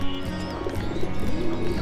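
Low, soft cooing of pigeons close by, a continuous throaty murmur over faint background noise.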